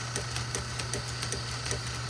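An old lathe dating from the 1950s runs steadily, a low mechanical hum with a faint regular ticking rattle repeating several times a second, close and continuous with no voices.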